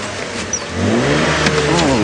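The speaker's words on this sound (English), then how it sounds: "Oh dear, this car will not go into reverse." A safari game-drive vehicle's engine revs up and holds at a loud, strained pitch as it fails to go into reverse, a close, continuous mid-pitched roar after a brief quieter idle.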